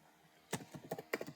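A short burst of typing on a computer keyboard, several distinct key clicks in quick uneven succession, close and fairly quiet over a soft background hum.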